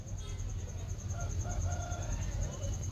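Rooster crowing and chickens clucking at a large poultry market, with a steady crowd and market din underneath and a constant high whine throughout.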